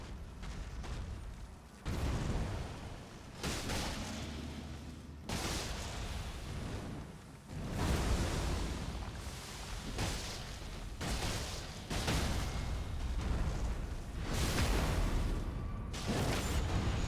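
Explosion effects from Elden Ring triggered by a curved sword, a run of heavy booming blasts at irregular intervals with sharp onsets and rumbling decays, loud and dense, mixed with game combat noise and no talk.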